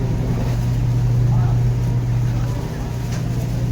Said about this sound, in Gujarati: તો આ તમે જોઈ શકો છો મારી બોટ જેને આપણે રોરો ફેરી કહીએ છીએ